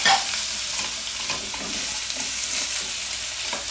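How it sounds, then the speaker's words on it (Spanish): Carrot and celery frying in a pan give a steady, close sizzle with the scrape of stirring running through it, and no voices are heard. "a freír las verduras"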